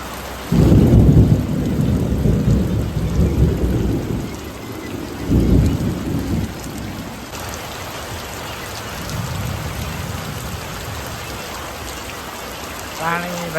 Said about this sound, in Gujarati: કડાકો થાય